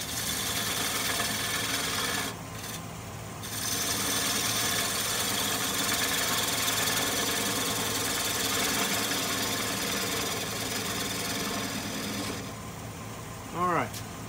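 A wood lathe turns a mimosa bowl, running with a steady mechanical hum and rough cutting noise that dips briefly twice, while a voice talks over it near the end.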